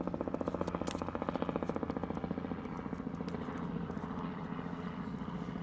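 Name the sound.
helicopter flying overhead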